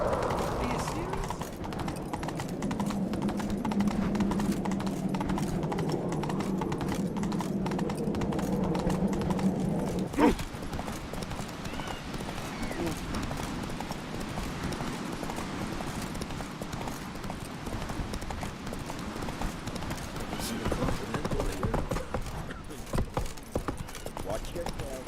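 A horse gallops in The Witcher 3 video game, a steady rapid hoof rhythm running throughout with background game music and a voice speaking over part of it.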